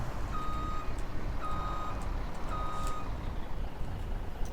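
Reversing beeps from a parking truck in the Farming Simulator 17 game, three evenly spaced electronic tones over a steady low engine rumble, no talking.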